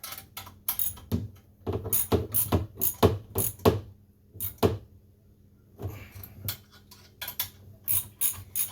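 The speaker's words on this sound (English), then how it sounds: "So there's very little room to turn this wrench. Okay, now we'll tighten up these." Ratchet wrench tightening exhaust bolts on a 1996 Sea-Doo GTI personal watercraft in a cramped space: bursts of rapid close clicking pawl ratchets, in short strokes with brief pauses between.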